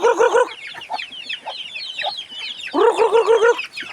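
Farm chickens on a mountain farm clucking while being fed, close bursts of rhythmic clucks and short calls with quieter pecking between them, no talking.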